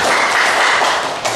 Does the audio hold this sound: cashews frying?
no